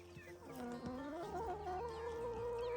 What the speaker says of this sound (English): Bossa Nova, our boldest hen, leaps up high to declare herself queen of the coop